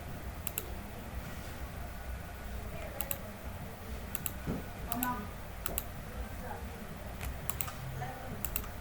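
A computer keyboard and mouse are used during a technical drawing tutorial, with sparse, crisp clicks and key taps in small clusters over a low steady room hum.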